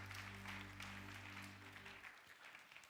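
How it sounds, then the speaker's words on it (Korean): A church youth worship congregation gives welcoming applause for performers, quiet, distant clapping from many hands over a low steady hum that fades out after two seconds. "우리 출연한 친구들을 위해서 박수로 환영하도록 하겠습니다"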